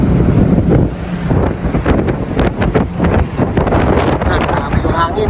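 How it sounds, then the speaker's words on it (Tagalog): Strong wind buffets the microphone on a ship at sea near Dipolog, a loud, continuous roar with gusty swells and a low rumble throughout, with people talking faintly underneath. "Grabe yung hangin, lakas."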